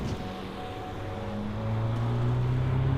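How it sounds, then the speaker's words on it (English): An Alpine A110 mid-engine sports car drones steadily from inside the cabin, its low engine hum swelling louder and rising slightly in pitch partway through as it accelerates in track mode. "engine note"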